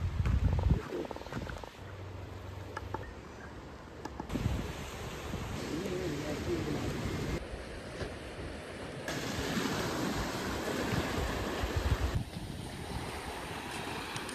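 Surf rolling onto Paradise Beach at Gokarna, a continuous wash of breaking waves with wind buffeting the microphone, fairly faint and steady with no talk.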